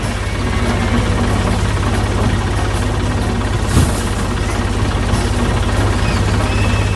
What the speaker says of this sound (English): Look at the tractor go.